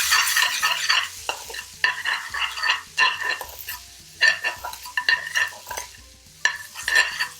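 Red chilli being stirred into a frying curry base gravy for chicken 65: a steady sizzle with repeated scraping and clinking of a utensil against the pan, close and with no one talking.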